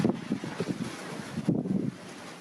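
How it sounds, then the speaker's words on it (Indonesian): Strong afternoon wind gusts sweep through the village of Dusun Gantang, Sawangan, in Magelang, buffeting the microphone with a loud, rumbling roar that swells and eases repeatedly. "Hembusan angin kencang di Dusun Gantang, Sawangan, Kabupaten Magelang, Minggu sore terekam kamera warga"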